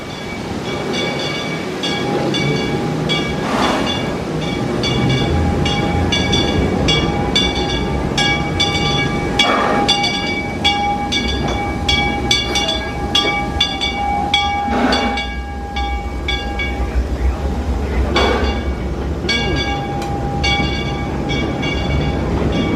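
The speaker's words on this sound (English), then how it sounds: "You see the train going by," The Six Flags Railroad train rolls past with a steady rumble and clickety-clack of cars on the track, accompanied by a sustained tonal whistle or horn and periodic louder clanks, moderately close and continuous.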